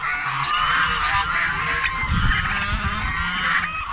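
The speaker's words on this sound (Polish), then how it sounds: "O, gęsi wejdą." A flock of geese honking continuously nearby, overlapping calls forming a dense, loud chorus.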